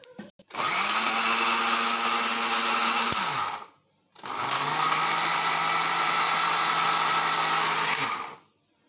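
A kitchen blender grinds grated coconut with a little rice in two loud, steady bursts of about three seconds and four seconds, with a brief pause between them and no talking.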